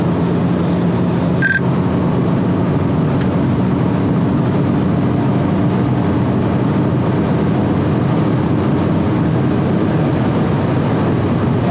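Hyundai Avante N speeding up on a high-speed test track: a loud, steady roar of engine and road and wind noise from inside the car, continuous with no letup and no talking.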